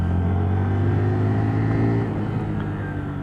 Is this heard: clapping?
no